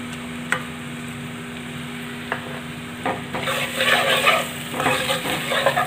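Spices with green chillies fry in a pan for kadhi pakoda, with faint clinks of a spoon at first, then a louder crackling sizzle as the food is stirred, with no voices.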